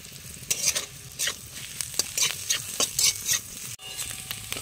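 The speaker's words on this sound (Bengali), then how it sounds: "এটাকে একটু নেড়ে চেড়ে হালকা ভাজা ভাজা করে নিতে হবে" Pointed gourd vines are stir-fried in a hot pan, with bursts of sizzling as a utensil stirs and scrapes them in an irregular rhythm. The sound is close and loud, then drops out briefly near the end.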